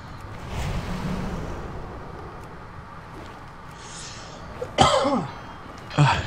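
A person coughs twice, close to the microphone, short and sharp, about a second apart. The coughs come near the end over a low, steady background hum.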